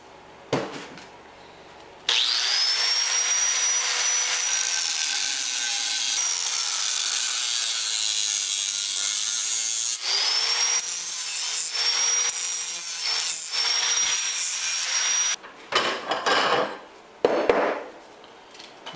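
A hacksaw or power saw cuts through 1-inch structural steel pipe in a long sustained grinding rasp with a rising metallic whine, pausing briefly midway and ending in a few rough, uneven strokes.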